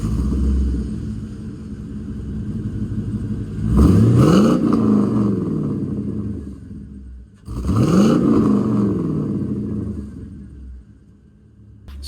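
Two sharp revs from a GMC Sierra's 5.3L V8 through an equal-length exhaust fitted with new mufflers and resonators, each rising to a loud roar and then settling back to a deep idle rumble nearby.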